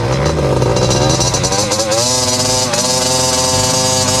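A small cheap motorcycle engine runs close by during a test ride, with a loud buzzing drone whose pitch rises and falls as the throttle changes, plus a light rattle underneath.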